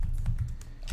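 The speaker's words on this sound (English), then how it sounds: "So here, I'm typing, and I will write" Quick clicking keystrokes on a computer keyboard, a short run of taps close by.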